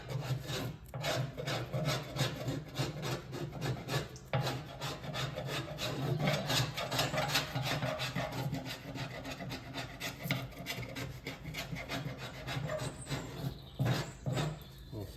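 A sharp blade scrapes warmed, softened glue off a painted metal part of a Massey Ferguson 1250 tractor, a continuous rasping with rapid repeated strokes, close and fairly quiet, with no talk.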